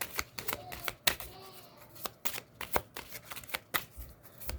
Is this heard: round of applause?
no